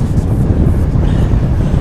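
Strong wind roars and buffets the microphone of a road cyclist riding a 2024 Trek Madone SL 6 Gen 8 bike, a steady, loud low rumble with no clear voice.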